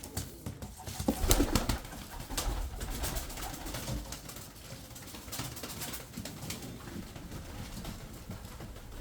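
Tumbler pigeons coo softly amid a rustling, noisy background, with a brief burst of louder scuffling near the start, nearby but not loud.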